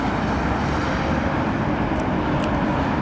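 Swiss Airlines Airbus A220 airliner at London Heathrow, a steady, loud broadband jet engine roar held evenly throughout with no voices.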